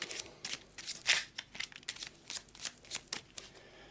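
Playing cards are given a quick shuffle during a tabletop game, producing a rapid run of crisp, close riffling flutters and taps with no talking.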